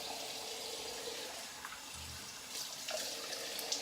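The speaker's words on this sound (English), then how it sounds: "let me just quickly rinse" Running tap water splashes steadily into a sink during a wet shave, a continuous soft hiss with a few brief splashes toward the end, close and fairly quiet.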